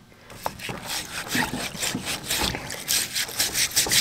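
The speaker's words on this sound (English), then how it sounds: "give them a little bit of a brushing with this and see which one, after just some rubbing, is going to give us the best result" A brush scrubs loosened rust off metal soaked in Evapo-Rust, giving rhythmic, raspy strokes at close range that repeat steadily, with no talking.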